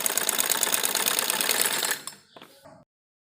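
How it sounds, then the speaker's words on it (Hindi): Sewing machine running a fast, steady stitch along a palazzo seam, loud and continuous for about two seconds, then stopping, followed by a few faint handling clicks. "और ये देखिए अब हम इसको इस साइड पलटेंगे और दबी हुई सिलाई लगाएंगे यहाँ पर।"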